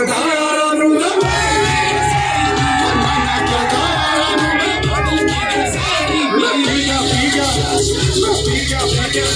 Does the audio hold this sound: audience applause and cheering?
yes